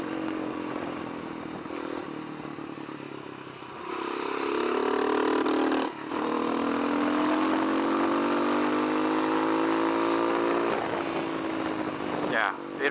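Kawasaki KLX140 dirt bike engine running steadily on a test ride, rising to a stronger part-throttle drone midway, with a brief dip and voices heard faintly over it.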